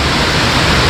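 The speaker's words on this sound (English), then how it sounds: "So this waterfall is 120 feet tall." Steady broadband roar of the 120-foot Salmon Creek Waterfall on the Big Sur coast, heavy with spring flow, close and loud in a brief burst.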